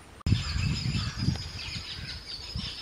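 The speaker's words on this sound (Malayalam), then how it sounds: "ദേ ആ കേൾക്കുന്നതാണ് കിളികളുടെ കളകളാരവം." Birds chirp near a deep pond outdoors, a busy mix of calls after a sharp click, moderately loud with no one talking.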